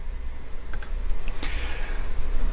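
A computer mouse clicks a menu button on a website: a few faint, quick clicks in a quiet room.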